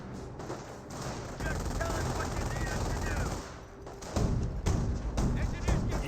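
Sustained machine-gun and rifle fire from a squad rattles through a Company of Heroes battle, dense overlapping bursts with heavier thumps near the end, mixed with game voices.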